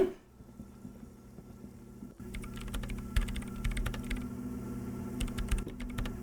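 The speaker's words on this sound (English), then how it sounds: "she just walks straight up to it and starts typing" A woman types rapidly on the keyboard of a radio computer in Disco Elysium, a dense run of key clicks starting after about two seconds over a steady low electronic hum, with no talking.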